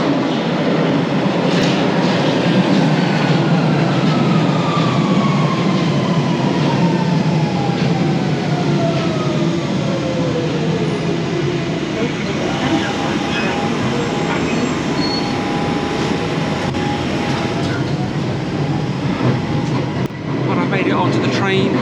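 A London Underground train rumbles loudly through the station with sweeping wheel squeals and metallic screeching, a continuous roar filling the platform while indistinct voices murmur beneath.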